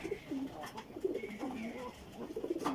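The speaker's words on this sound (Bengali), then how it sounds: "এই যে 2টা ঘুঘু, আর যে এখানে আমার যে কবুতরগুলো আছে যে পানি খাচ্ছে" Pigeons and doves coo in soft repeated low phrases while feeding, close by, with light chirps from other small birds mixed in.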